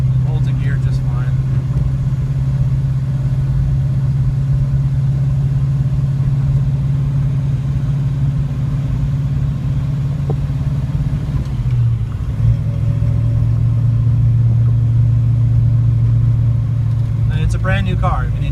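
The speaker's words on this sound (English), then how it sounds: "it makes a ton of power, and it's got a really nice rumble" A 1967 Chevrolet Chevelle's engine gives a steady, deep rumble that fills the cabin throughout, low and continuous, with faint voices underneath.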